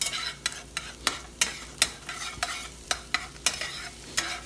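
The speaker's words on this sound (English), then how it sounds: "you let that cook nice and quick. That's why the eggs are the last things you put in there" Scrambled eggs sizzle in a hot pan while a utensil stirs and scrapes them in regular sharp strokes, roughly every half second, close and fairly loud over a steady frying hiss.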